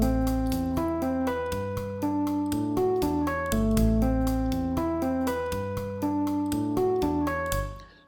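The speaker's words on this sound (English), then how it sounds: "here's an example of a layered ostinato" A repeating musical pattern with several interlocking lines, steady plucked notes over a sustained low part, looping evenly for several seconds before fading.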